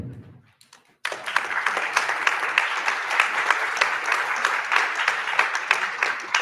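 A conference audience at a European Jewish Association gathering breaks into sustained applause after a short quiet lead-in, dense steady clapping that fills the room for several seconds.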